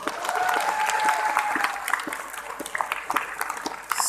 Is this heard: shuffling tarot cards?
no